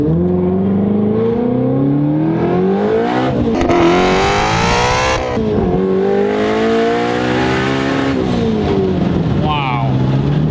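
A 2017 Shelby GT350R with a 1000R twin-turbo setup accelerating hard with tires spinning at low speed, its engine note rising loud and strong in long sweeping pulls, heard from inside the car while people talk throughout.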